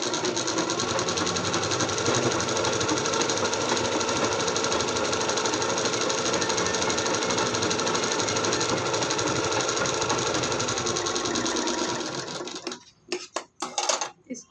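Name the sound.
sewing machine stitching a blouse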